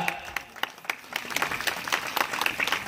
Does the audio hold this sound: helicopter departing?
no